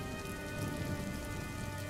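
Steady rain falls at night, a dense, even hiss of drops on surfaces with no break, moderately faint and constant throughout, with no voices.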